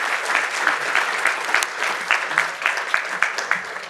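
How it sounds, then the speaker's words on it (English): An audience applauds steadily at a law school poll event, with a dense rolling patter of many hands clapping at moderate volume throughout, no voices above it. "if we can give just a round of applause to Dr."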